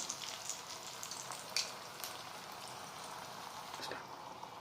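Mango and coconut poa pitha fries gently in oil over a low flame, giving a soft, faint, even crackle and bubbling with a few small pops and no voices.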